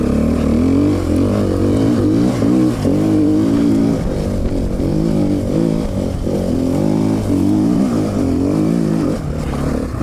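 KTM 450 Six Days dirt bike engine revving hard while riding over bumpy ground, loud and close with continuous throttle swells and drops across the whole stretch, no talking.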